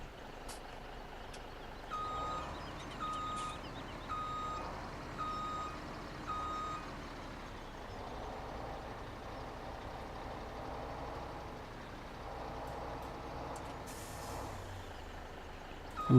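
A semi-truck in Farming Simulator 17 backs up with a steady run of evenly spaced reversing beeps over a low engine rumble, then an air brake hisses near the end.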